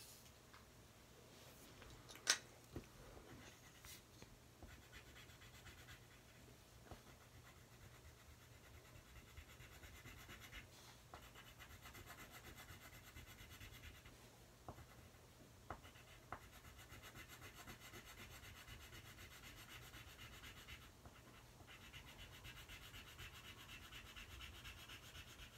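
A colored pencil being sharpened while drawing a Pokemon, giving a steady, quiet scraping rasp that runs continuously with a few brief sharper scratches, close by and without any talking.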